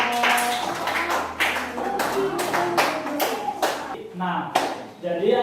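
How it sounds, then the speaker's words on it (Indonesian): Classroom children clap for a group, a burst of quick uneven hand claps with some louder smacks, mixed with children's voices and chatter. "Oke, tepuk tangan buat kelompok."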